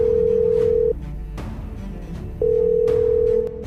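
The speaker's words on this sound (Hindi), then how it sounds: "आर्या की गर्लफ्रेंड के फोन में रिंग लगातार जा रही थी" A phone call's ringback tone plays as two long, steady beeps separated by a pause, loud and clean over a low background hum.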